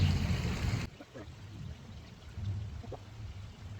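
A gentle stream of water pours and trickles from a geyser into a pond, louder for the first second, then fainter babbling that fades in and out.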